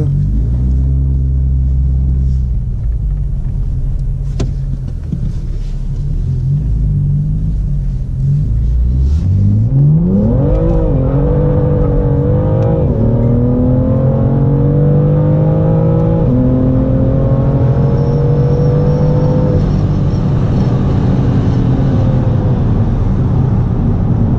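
A BMW M2 with 434 hp and 662 Nm launches from a standstill: a deep idle rumble builds into a loud, rising engine roar through several gear changes, heard close and without voices.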